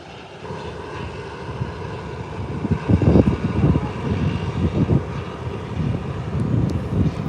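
A fixed-wing airplane accelerating down the runway on a short takeoff, a rising engine roar swelling to a peak with wind buffeting the microphone, steady and moderately near.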